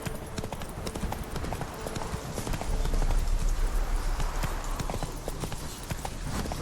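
The horse Roach gallops in The Witcher 3, a steady, fast clip-clop of hooves running continuously and fairly loud over a broad game ambience.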